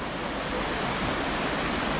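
Creek water flows in a continuous, even broadband rush at a dam nature area, steady and unbroken with no voices.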